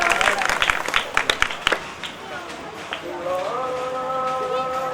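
A studio audience at a Marathi game show claps in a brief burst of applause, uneven and fading after a couple of seconds, followed by a sustained musical tone.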